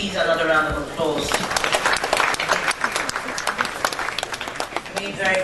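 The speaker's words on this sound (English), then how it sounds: "Please, another round of applause." A summit audience breaks into applause right after a speaker finishes, a loud, crackling wave of many hands that swells and holds steady, with a voice talking over the opening moment.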